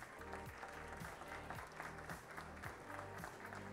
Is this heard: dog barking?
no